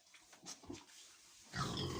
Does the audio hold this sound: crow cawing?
no